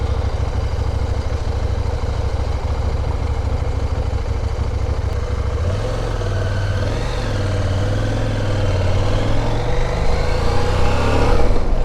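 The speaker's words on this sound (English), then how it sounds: "I'll wait for these cars to go first." Road traffic heard from beside a CFMOTO 800MT Touring adventure motorcycle as cars pass by, a steady loud engine drone with a rising pass-by swell in the second half, no talking.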